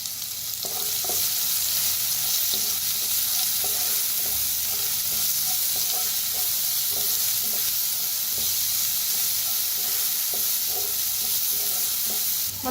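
Curry leaves and coriander frying steadily in a pan for spiced chickpea-flour paste, a continuous close sizzle with scattered small crackles and occasional stirring scrapes.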